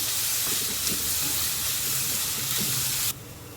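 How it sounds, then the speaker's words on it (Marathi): Sliced onion with seven curry leaves and two green chillies sizzles steadily in a hot pan for a potato bhaji, a loud close broadband hiss that drops off abruptly near the end. "कांदा छान गुलाबी परतून घ्यायचा आहे"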